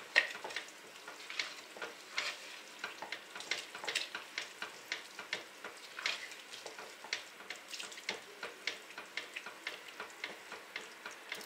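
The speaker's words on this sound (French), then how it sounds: "On va mélanger les œufs à la pâte, en remuant aussi vite fait." Eggs being stirred into sweet cinnamon vermicelli in a pan: soft, rapid scraping and wet clicking strokes in a steady rhythm, close but fairly quiet, with a light sizzle underneath.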